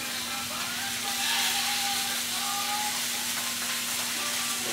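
Pork sizzling steadily in hot olive oil in a pan, a continuous close hiss with faint crackles throughout, over a low steady hum.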